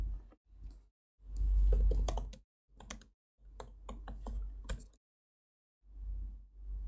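Someone types on a Mac keyboard to enter a request for Siri, with short bursts of close, quiet key clicks separated by brief pauses.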